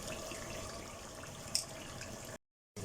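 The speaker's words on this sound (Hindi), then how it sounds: "अब इसमें पानी ऐड कर देंगे।" Water poured into a cooking pot of spiced rice and chicken for biryani, a steady, fairly quiet rushing stream running continuously, with a brief splash and a short silent gap near the end.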